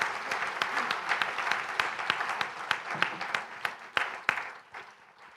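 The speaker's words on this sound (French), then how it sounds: "je vous propose qu'on arrête là, mais qu'on les applaudisse" An audience applauds at the end of a talk at a business school conference on companies and ecological transition, with steady, moderately distant clapping and a few sharper individual claps standing out.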